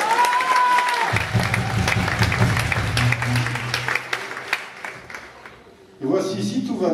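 Theatre audience applauding the sound technician Michel, a sustained patter of clapping with a few sharp nearby claps, joined by a voice and a low tone before it thins out; louder sound returns near the end.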